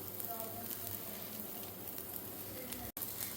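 Finely chopped onion sizzles in a hot pan while egg appe is cooked, a soft, steady frying hiss at low volume with a faint voice in the background and a brief dropout near the end.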